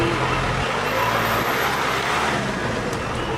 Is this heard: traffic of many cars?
yes